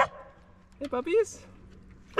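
Puppies give a few short high yips and whimpering whines, close by, in brief separate bursts with quiet gaps between them.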